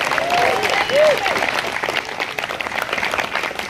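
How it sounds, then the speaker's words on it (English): Audience applause at a New Jersey LD-16 Democrats 2017 campaign kickoff, a steady broadband wash of many hands clapping at moderate volume with some crowd noise and a brief voice at the start. "let's give Andrew a big round of applause"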